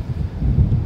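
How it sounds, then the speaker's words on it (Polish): Low, rumbling strong wind buffeting the microphone for under a second while fishing, with continuous gusty thumps swelling toward the end. "No niestety wiatr jest silny"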